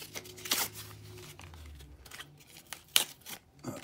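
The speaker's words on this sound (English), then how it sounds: "Let me get the scissors here." Scissors snip at Spider-Man card packaging in several quick, sharp cuts that are close and fairly quiet, mixed with crinkling and rustling of the wrapper.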